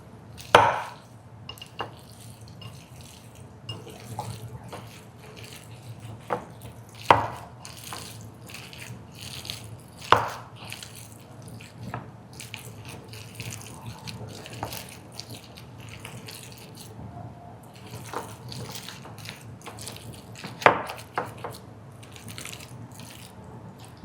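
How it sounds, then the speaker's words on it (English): Chicken crust calzone mixture being mixed together in a bowl, with scattered soft clacks and squishy taps over a faint steady background, a few sharper knocks standing out, no voices. "Then I'm gonna take my mix here, mix it all together"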